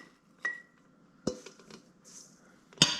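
A little spoon clinks against a jar of fermenting stinging nettle juice with sugar: a few sparse, bright metallic taps and scrapes, close but fairly soft, separated by quiet gaps.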